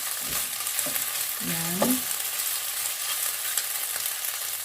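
Pork belly fries in its own rendered fat for ginisang green beans, a dense, steady sizzle with stirring in the pan and a brief spoken word partway through.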